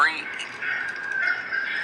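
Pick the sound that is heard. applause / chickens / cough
chickens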